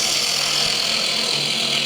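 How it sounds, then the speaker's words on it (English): A wood lathe bores out the centre of a green timber bowl, giving a steady, close hiss of cutting with a constant motor whine. The sound runs unbroken and loud for the whole moment. "So I'm going to start by boring out the middle as I would normally do."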